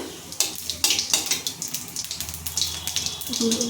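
Cumin seeds and dried red chilies are tempered in hot oil for a papaya dish. A bright, crackling sizzle pops in irregular bursts close by, with no talk over it.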